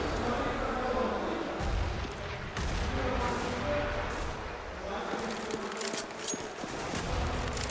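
Grenade blast and gunfire in the shooter game CS:GO during an ESL One Cologne 2014 quarterfinal match, a continuous loud wash of explosions and shots with a commentator talking over it.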